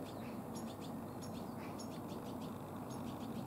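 Small birds give faint repeated high chirps in a garden planted with sunflowers, scattered calls over a constant hiss of background noise.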